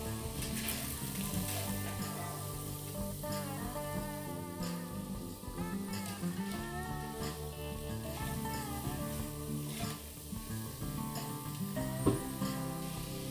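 Spices, including roasted cumin powder, sauté with okra and potato in a pan, making a steady, fairly quiet sizzle with occasional faint stirring touches while background music plays.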